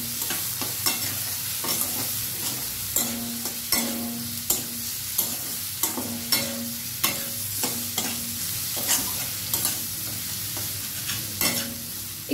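Chilli chicken frying in a pan with soy and tomato sauce, a soft steady sizzle punctuated by repeated scraping strokes of a spatula stirring at a regular rhythm, close and fairly quiet.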